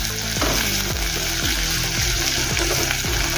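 Green onion and green chili sizzle hard in a hot pan for chana dal pulao, a steady loud fry with rhythmic stirring scrapes about every half second.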